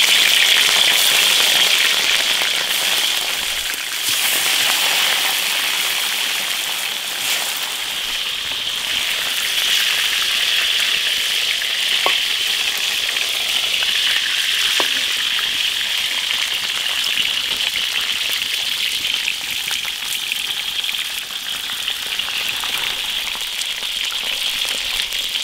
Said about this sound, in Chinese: 把鱼骨头煎一下